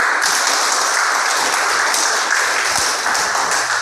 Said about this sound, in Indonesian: ini luar biasa. Tepuk tangan.